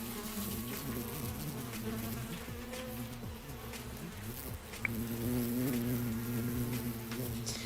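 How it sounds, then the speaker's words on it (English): Wasps from the video game The Hundred Line buzz continuously, a dense layered drone with wavering pitches rising and falling as insects hover, fairly loud throughout, with a small click midway and no talking. "The sound of the wasps had you looking around your room."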